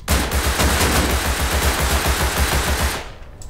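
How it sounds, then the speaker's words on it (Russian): A burst of sustained automatic assault rifle fire from the video game Rust, with rapid, evenly spaced shots in a loud continuous stream of about three seconds that then cuts off. No one speaks. "Тут автомат."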